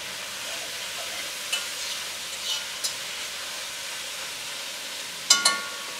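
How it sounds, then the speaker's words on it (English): Meat stirred and seared in a hot pan gives a steady soft sizzle, with a few light scraping stirs and a sharper clatter of the utensil near the end. "I'm going to make sure that I stir it around so that the meat touches the bottom and starts to get cooked,"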